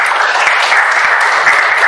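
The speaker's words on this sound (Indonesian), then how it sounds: "Boleh kasih tepuk tangan untuk Narendra" Classroom applause for a student named Narendra comes as a dense, loud, close wash of many hands clapping continuously, with no talk over it.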